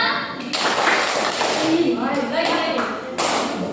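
A group of children at a Sunday school class clap hands together in short, slightly ragged bursts, several claps spaced across a few seconds, with a teacher's voice talking over them.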